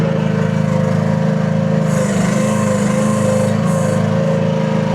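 The small engine of a CFG QH12R mini excavator runs close by at steady idle, a loud continuous buzzing drone with rapid regular pulsing and a brief higher hiss partway through.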